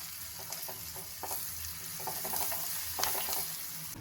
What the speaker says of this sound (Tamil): அடுப்பை சிம்மில் வச்சு கிளறி கொடுத்துக்கலாம்